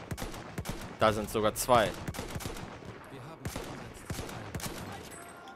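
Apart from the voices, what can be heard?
gunshot in Battlefield 1 video game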